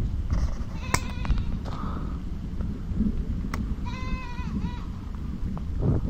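A newly bought goat bleats once clearly near the middle over a steady outdoor background hum, with faint scattered noises around it.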